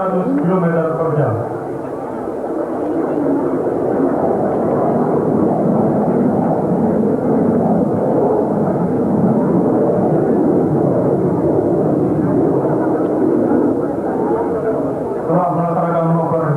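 A military jet flies aerobatic manoeuvres at a 1996 Indonesian Air Force anniversary display, a loud, continuous roaring rush that holds steady throughout, with a voice heard briefly at the start and end.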